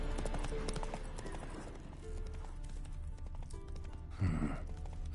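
Horse hooves clip-clop steadily at a walking pace on the ground in The Witcher 3, close and continuous under ambient game sound, with one brief louder thump near the end.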